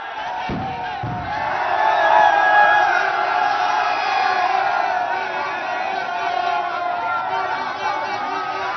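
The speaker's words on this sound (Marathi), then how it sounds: "अजूनही जल्लोष तोच पाहायला मिळतोय" Street crowd in Nagpur celebrating India's Champions Trophy cricket win, a loud sustained roar of cheering, whooping and shouting voices blending into a dense continuous wash, with a couple of sharp bangs early on.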